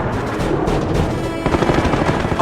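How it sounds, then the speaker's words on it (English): Bursts of cannon fire from a flight of four Me 262 jets attacking bombers at long range, heard as a rough, continuous rattle of rapid shots under steady engine roar, loud and close throughout. "A flight of 4 streaks in, lobbing cannon shells at long range"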